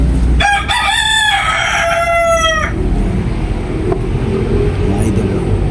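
A rooster crows loudly nearby, one long harmonic call lasting a couple of seconds, over steady background rumble.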